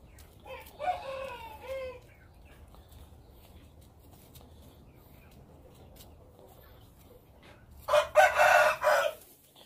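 Rooster crowing twice, a drawn-out crow near the start and a louder, closer one near the end, with quiet rural background between.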